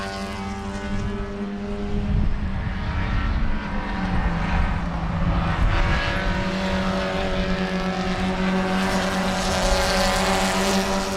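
Race cars at speed on the banking at Sebring during the Love Bug Dash, a steady loud engine roar with sustained tonal drone and no clear gaps between passes.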